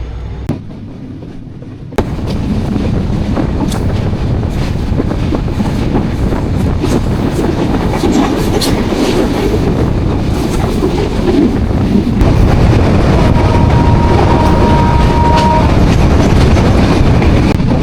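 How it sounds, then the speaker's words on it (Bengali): The Nilsagar Express rolls slowly along the rails between Santahar and Joypurhat, heard from inside with a loud, continuous rumble and rattle. The first two seconds are quieter before the full noise swells in and holds steady. "আমাদের ট্রেন আক্কেলপুরে কিছু সময় দাঁড়াইছিল, এখন আক্কেলপুর থেকে আবার গন্তব্যের দিকে রওনা দিয়েছে"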